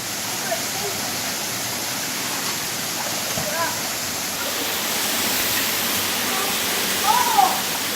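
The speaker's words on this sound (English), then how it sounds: "The waterfall's to the right, I think." A waterfall on Makamakaole Stream in Maui pours as a constant broadband rush of falling water, steady and fairly close, with a few brief faint sounds near the end.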